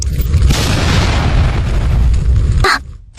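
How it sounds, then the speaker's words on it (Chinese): A loud explosion in a drama scene: a broadband blast that roars steadily for about two and a half seconds, then cuts off with a short sharp burst before silence. "爆炸！"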